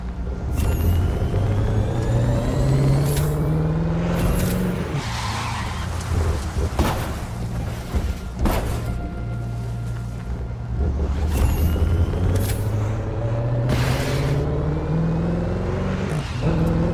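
A Koenigsegg Regera in the racing game The Crew 2 revs and climbs through its range with rising engine tones, loud and close, over rain and rumbling storm sounds, with brief sharp bursts between pulls.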